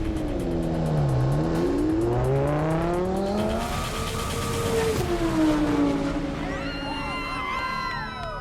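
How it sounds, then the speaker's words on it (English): An Audi R8 accelerates down a half-mile racing strip at a roll-racing event, its engine pitch climbing and dropping through gear changes, loud and sustained, with crowd noise in the background. "We're about to send an Audi R8 down the track that is aiming for a world record."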